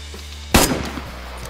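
A single loud gunshot from a sniper rifle in DayZ on PlayStation 5 cracks out sharply and close, then a short echo tail fades over a low steady game ambience, with no talk.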